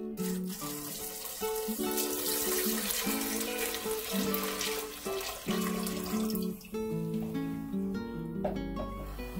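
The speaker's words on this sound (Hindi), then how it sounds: "और साथ ही 1 लीटर पानी जो है वो भी इसमें ऐड कर दूंगी।" Water pours steadily into a cooking pot holding chickpeas and spices in a home kitchen, a continuous close splashing flow with a tonal ringing from the vessel that shifts as it fills.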